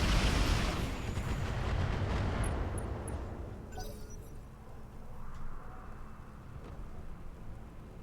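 Rocket volleys fired in the mech combat game BattleTech with the Roguetech mod, a loud, dense roar of launches and blasts filling the first seconds, then thinning into scattered crackling impacts and rumble.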